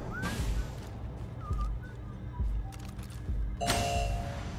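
Whistled tones in Far Cry 6, a few short rising and falling notes heard faintly over a rumbling game ambience, followed by a sudden louder burst near the end.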